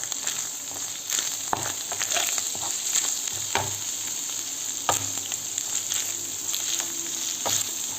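Minced meat filling for börek sizzling in a pan as it is stirred after salt and black pepper go in, with steady frying crackle and scattered sharp spoon scrapes and knocks against the pan throughout.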